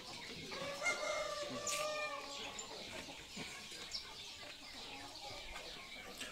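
Young chickens around six months old on a poultry farm cluck and crow in a busy, overlapping flock, fairly close and moderately loud, with a faint human voice underneath.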